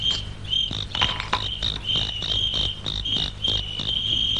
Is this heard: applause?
no